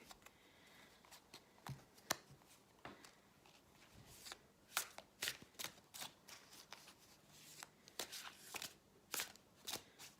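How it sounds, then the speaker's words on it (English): Large tarot cards being shuffled by hand, close and quiet, with irregular bursts of crisp riffling and snapping that come in uneven clusters. "Now these cards are more difficult for me to shuffle because they're bigger and my hands are not that big"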